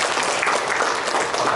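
A church congregation claps together at an Easter service, a dense, steady wash of applause filling the whole moment with no pauses.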